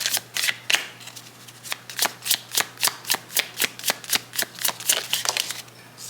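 A deck of oracle cards is shuffled up close, giving a rapid run of crisp papery snaps and riffles in a steady, even rhythm throughout, with no voices.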